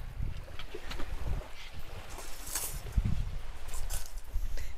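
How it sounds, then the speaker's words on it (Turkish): Strong wind gusts buffet a riverside family tent camp, with uneven roaring bursts and rumbling microphone buffeting that rise and fall, alongside some rustling and flapping. "Çok rüzgar esti bir anda."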